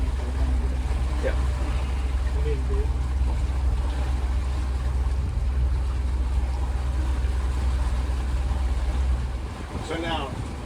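Deep steady engine drone and wind rush aboard a 1984 Chris-Craft Catalina 381 motor yacht cruising on the water, loud and continuous, with faint voices mixed in and a brief whistling warble near the end.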